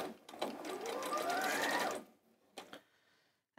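A sewing machine stitches around the edge of a pocket on a Cecily skirt, running steadily for about two seconds before stopping, followed by a couple of short mechanical clicks.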